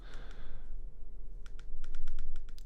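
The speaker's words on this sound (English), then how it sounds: "The buttons are quite sort of rubbery, but also clicky. I don't know if you can hear the clicks." Rubbery yet clicky buttons on a Wahoo ELEMNT GPS bike computer are pressed, giving a quick run of about eight sharp, close clicks after a soft breathy pause.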